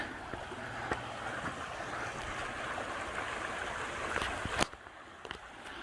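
Geneseo Creek flowing beneath a bridge on the Hennepin Canal near Geneseo, Illinois, a steady broadband rush of moving water that holds constant for several seconds, then drops abruptly quieter near the end with a few small knocks.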